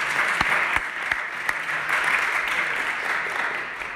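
Church congregation applauding, a steady wash of clapping with a few sharper individual claps standing out, continuous and fairly close with no talk over it.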